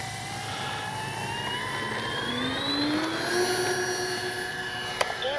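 A radio-controlled FlightLine P-38 twin-engine model plane of 1600 mm wingspan flies overhead, a whining propeller drone whose pitch climbs and slides as it passes, loud and steady, with a sharp click near the end.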